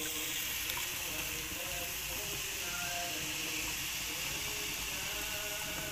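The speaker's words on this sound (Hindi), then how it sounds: "इसके अंदर ही मैं डाल रही हूँ थोड़ा सा और पानी" A little more water poured into soaking tamarind pulp for chutney, a faint continuous trickle and hiss with small clinks, close and quiet, with a voice briefly in the background.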